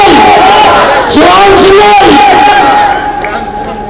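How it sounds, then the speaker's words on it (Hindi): Loud rally crowd in Delhi cheering, whooping and clapping for Shivan Singhal, a dense sustained roar of many voices with shouts rising over it and slowly easing toward the end. "एक बार जोरदार ताली बजा दो भाई के लिए"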